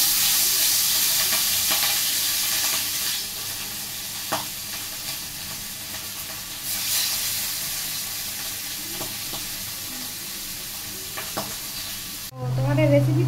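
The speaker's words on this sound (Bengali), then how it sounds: "তো তেলটা গরম হয়ে গেছে, আমি ইলিশ মাছগুলো ছেড়ে দিলাম।" Hilsa fish rubbed with salt and turmeric frying in hot oil tempered with nigella seeds, a steady loud sizzle running throughout with occasional spatters and stirring clicks, cut off abruptly near the end by a brief different sound.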